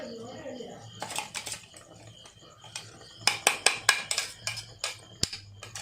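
A spoon stirs a pot of jackfruit curry with ground coconut, making bursts of metallic scraping and clinking against the pot while a person talks.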